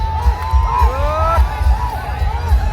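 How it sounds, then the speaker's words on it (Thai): At a rocket festival launch in Xaythany, Laos, a large outdoor crowd whoops and cheers over a rhythmic low drumbeat, with voices rising and falling and loud calls cutting through the babble. "เสียงโหแซวเลย"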